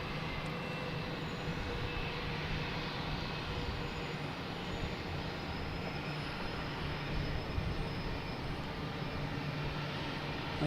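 A JetBlue airliner taxis at Boston Logan Airport, its engines a steady broad roar heard from some distance without speech.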